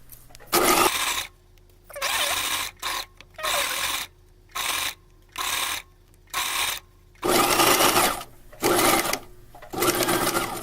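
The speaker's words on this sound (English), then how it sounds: "And then sew from the raw edge to the raw edge." A sewing machine stitches a tote bag seam from raw edge to raw edge, running in repeated close, loud bursts with short pauses between them.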